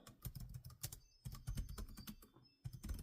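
Fingers type on a computer keyboard in quick, quiet bursts of clicking keystrokes, broken by brief pauses, close by and alone.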